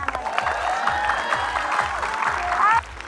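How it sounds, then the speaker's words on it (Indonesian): Studio audience on a talk show applauds and cheers over a steady thumping music beat, the clapping dense and lively before dropping off abruptly near the end. "Tepuk tangannya."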